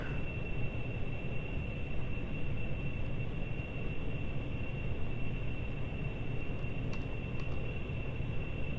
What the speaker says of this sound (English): The engine is losing thrust as the atmosphere gets thinner and thinner.